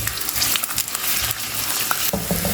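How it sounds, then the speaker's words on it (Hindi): A medium onion fries in hot oil in a home kitchen, a dense crackling sizzle close up with a few stirring scrapes near the end. "ऑयल यहाँ पर गर्म हो चुका है, अब इसमें मैं प्याज डाल दूँगी।"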